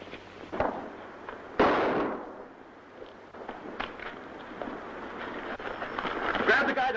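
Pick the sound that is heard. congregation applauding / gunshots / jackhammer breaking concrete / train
gunshots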